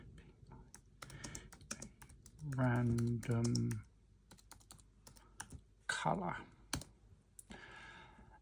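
Typing on a computer keyboard comes as bursts of close, crisp key clicks with pauses between, while a person speaks briefly over part of it.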